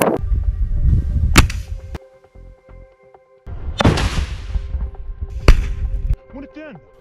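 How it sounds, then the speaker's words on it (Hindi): A rocket launcher fires on an IDF tank in combat: several sharp, loud cracks and blasts land over about seven seconds, with rumbling low noise between the bangs and a brief near-silent gap in the middle. "आईडीएफ के एक टैंक पर रॉकेट लॉन्चर से गोला फायर करता है, जिसमें जोरदार ब्लास्ट होता है।"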